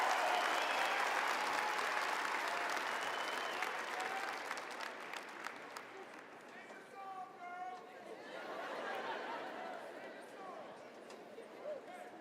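Crowd applause following the national anthem at a graduation ceremony: loud, sustained clapping and cheering that gradually thins, with a faint whistle or whoop partway through and chatter lingering as it fades.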